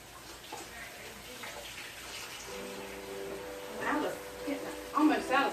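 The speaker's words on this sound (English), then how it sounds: "let me wash my hands again" A kitchen tap runs while hands are washed, a soft splashing water stream that turns on midway and brightens with a few louder splashes near the end, under light background noise.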